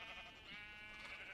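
A sheep in the video game Minecraft gives a soft, drawn-out bleat that holds for over a second at low volume.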